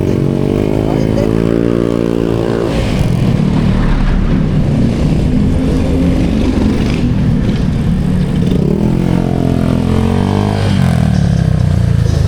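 A motorcycle engine revs loudly and close by, its pitch rising and falling in repeated surges with a rough, rattling tone, while people talk over it.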